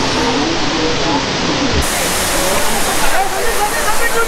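Kongala waterfall roars as a loud, continuous rush of falling water that fills the whole clip, close and dense, with no breaks.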